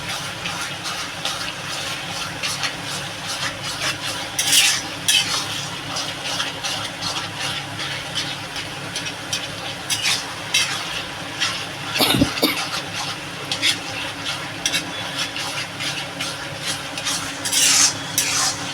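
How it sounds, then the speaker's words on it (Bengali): Taro leaves fry with a hilsa fish head in a pan, a steady sizzle running throughout while a spoon stirs, scraping and clanking at intervals, with a sharper knock near the middle. "আমি এরকম করে একটু ভেজে দেবো"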